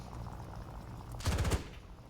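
A short, fast burst of machine gun fire from a tank in War Thunder, loud and close, rattling for about a third of a second over quiet background ambience.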